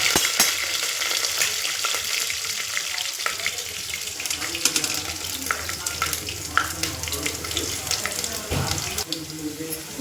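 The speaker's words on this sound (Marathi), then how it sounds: "तेल चांगलं तापलं आहे. त्याच्यानंतर कढीपत्ता आणि लसूण." Curry leaves and garlic hit hot oil in a pan for khichdi, giving a dense, hissing sizzle that stays loud and crackly throughout, with sharp spatters popping over it.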